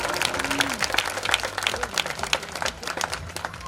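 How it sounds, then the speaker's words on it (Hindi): An audience claps at a community event for a library and study centre, bursts of hand claps rattling quickly and unevenly, fairly close, with a voice briefly heard at the start. "जोरदार तालियां।"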